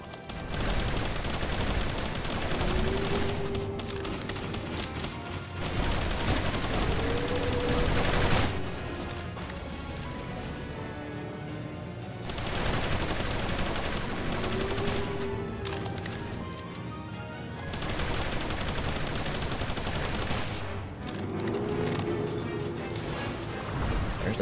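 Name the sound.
charge rifle gunfire in a video game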